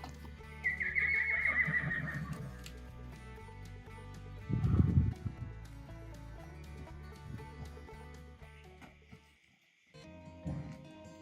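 A mare whinnies loudly near the start, with hooves clopping on the ground around her and a second, lower whinny or snort mid-way; faint clucking fowl can be heard in the background before a brief quiet spell.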